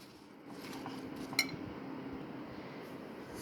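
A spoon stirs fruit chaat with sugar and cream in a bowl, making soft wet squishing and a single bright clink against the dish midway, quiet and close, with no talking.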